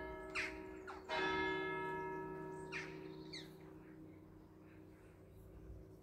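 Church bells ring from a tall bell tower at the Don Orione Centre, a loud struck peal with long sustained ringing tones that fade slowly, a few softer bird calls around it.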